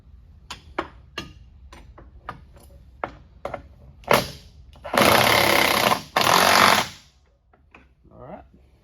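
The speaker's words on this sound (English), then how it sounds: "This impact gun puts out some pretty big torque" An impact gun tightens the bolts on a 115HP Mercury outboard motor mounted on a Majek Red Fish Line boat. Scattered knocks and clicks come first, then two loud, sustained rattling bursts of a couple of seconds each, close by.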